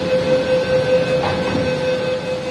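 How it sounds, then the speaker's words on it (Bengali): A Kolkata East-West metro train pulls out of the station, a steady electric hum with a sustained whine and rumbling wheels heard from inside the carriage, with no voices. "মোটামুটি 30 সেকেন্ডের ভিতরে কিন্তু মেট্রো আবার ছেড়ে দিল"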